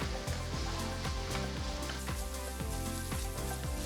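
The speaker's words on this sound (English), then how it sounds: "add 2 tablespoons of oil, 1 tablespoon of finely chopped ginger, 2 finely chopped large green chilies, 1 thinly sliced onion and saute on high flame" Ginger, green chilies and sliced onion sauté in oil in a wok over a high flame for street-style chicken fried rice, giving a steady loud sizzle with rhythmic scraping stirs, near and without talk.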